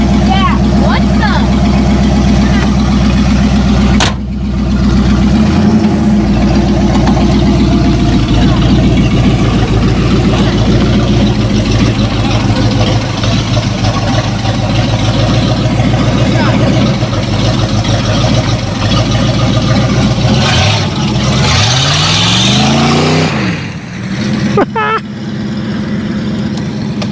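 A 1937 Ford pickup's engine idles loudly and revs, a steady rumble with rising and falling surges toward the end, while people talk over it.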